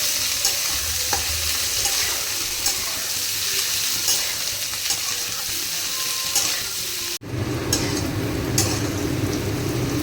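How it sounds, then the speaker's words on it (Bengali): Chopped onion and green and red chillies frying in hot oil for an egg curry, a continuous crackling sizzle with scraping stirs of the spoon in the pan, close and steady with no talk. "পেঁয়াজ আর লঙ্কাটাকেও ভালো করে ভেজে নেব।"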